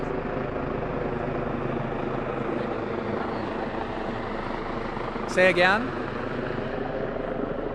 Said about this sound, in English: Sorry, there's a helicopter.